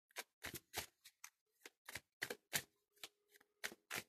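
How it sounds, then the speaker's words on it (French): A deck of cards is shuffled in a run of about a dozen crisp, papery riffling bursts separated by short pauses, close and clear with no talking. "Donc je brasse les cartes."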